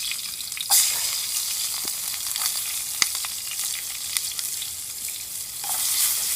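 Onion frying in olive or rapeseed oil in a pan at a cold November wild camp, a steady close sizzle with scattered pops and crackles and a brief sharper hiss near the start.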